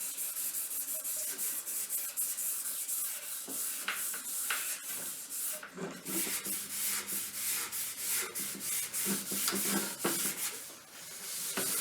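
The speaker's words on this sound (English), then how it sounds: "So now, Scotch-Brite pad just to smooth it off nicely." Close, steady scrubbing of a Scotch-Brite pad rubbed back and forth over a repaired resin table surface, a continuous dry hiss with rhythmic strokes and no talking.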